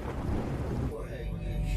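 A deep rumble of thunder from an approaching storm rolls on with a rain-like wash, in a Cars animated movie scene, loud and continuous with no voices over it.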